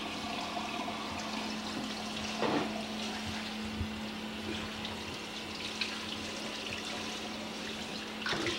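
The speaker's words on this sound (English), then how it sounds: "Rinse it off well. Run the water in the cavity." Tap water runs steadily into a sink while a turkey is rinsed inside and out, a continuous moderate splashing hiss with a low hum beneath and a few brief louder gushes.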